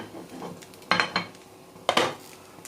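Kuzhi paniyaram being flipped in a cast pan with a utensil, soft clinks under a faint sizzle, followed by two sharper metallic clanks as a lid is set on the pan.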